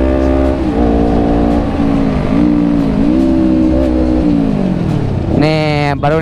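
Two-stroke motorcycle revving loudly and close on a Sunday morning group ride in Lembang, a steady buzzing engine drone with rising and falling pitch that climbs sharply into a high rev near the end.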